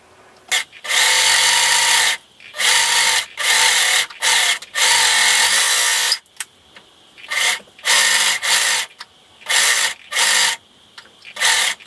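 A sewing machine stitching the seams of a t-shirt romper runs in loud, close bursts of steady whirring, each lasting about a second, separated by short pauses.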